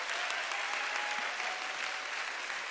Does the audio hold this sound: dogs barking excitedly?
no